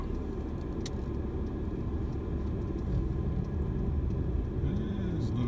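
Car traffic passing along a calm village road in Newtown, heard as a steady low rumble of engines and tyres, with some faint higher sounds over it and no one speaking.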